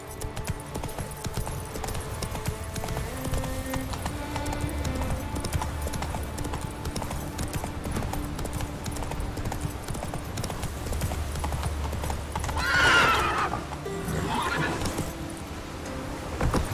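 Roach, the horse from the video game The Witcher 3, gallops with a steady, rapid clip-clop of hooves and lets out one loud neigh partway through.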